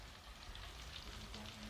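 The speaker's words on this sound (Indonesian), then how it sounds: "ini lagi goreng sate." Satay fries over a wood-fired stove in a Balinese kitchen during Galungan preparations, a faint, steady crackling sizzle with soft popping throughout.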